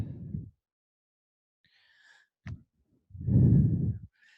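Close, audible yoga exhales: a short breath, a brief catch, then a long, full sigh-like exhale, with silence between.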